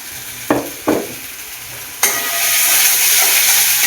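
Ginger, garlic, cumin and coriander paste with softened tomato hits hot oil for a spicy mutton curry: two sharp spatula knocks, then a loud burst of sizzling that settles into a steady close hiss, no talking.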